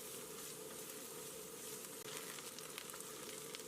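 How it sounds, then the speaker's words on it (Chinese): Scallion, ginger and garlic stir-frying in a little oil in a wok give off a steady, fairly quiet sizzle that holds evenly throughout with no voices. "锅留底油，下入葱姜蒜炒香"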